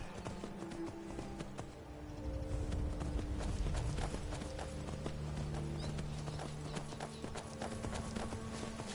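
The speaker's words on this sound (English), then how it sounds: "Ride the horse." Horse hooves clip-clop in a steady running rhythm during a PS4 video game, with a game soundtrack humming underneath and no talking.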